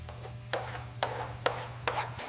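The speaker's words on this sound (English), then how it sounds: "High spot here, file it down" A file rasps across body filler on a car body panel in slow, repeated strokes, each a rough scraping burst, about five in a row, close up over a low hum.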